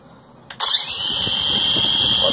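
A repaired agricultural drone motor spins up abruptly after a brief click, settling into a loud, steady high-pitched whine that holds without interruption.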